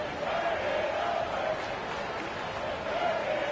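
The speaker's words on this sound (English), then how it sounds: "this crowd is in awe of that Mitchell dunk" A basketball video game crowd roars in a sustained, dense wash of cheering that holds steady for several seconds, with a commentator talking over it.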